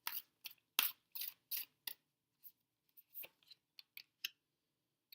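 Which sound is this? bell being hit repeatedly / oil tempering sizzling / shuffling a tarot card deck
shuffling a tarot card deck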